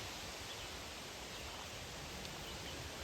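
A distant waterfall rushes along a forest trail at Big South Fork in Tennessee, a steady, faint broadband hiss with no voices.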